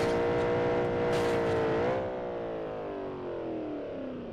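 Ferrari engine in the BeamNG.drive driving game, a steady loud whine that climbs in pitch, then drops and settles into a lower, gradually slowing drone, with no talk over it.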